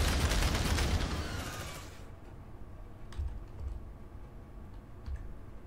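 Rapid suppressive gunfire in Aliens: Dark Descent, a dense, loud stream of shots for about two seconds that then cuts out, leaving faint scattered clicks and low rumble.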